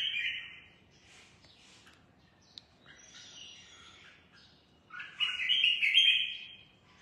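Caged songbird chirps in bursts of bright, high tweets and trills, close and clear against a quiet background, with a louder run of song near the end.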